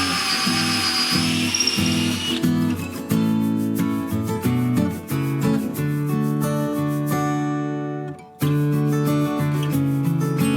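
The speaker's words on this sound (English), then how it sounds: "use our other drill to drill out the hole for the dowel" A power drill bores a dowel hole into a wooden butt joint, its steady whine shifting in pitch as it loads and eases, running nearly continuously before a brief cut-out and restart near the end.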